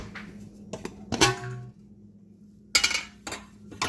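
A steamer pot of cooked custard is handled in a kitchen, giving a few close metallic clanks and clinks with quiet pauses between them.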